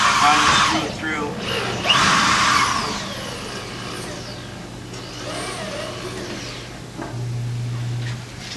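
A power driver runs screws through a metal building panel in bursts of whirring and grinding, loud at first and then fading, with a steady low hum beneath and a voice speaking over it.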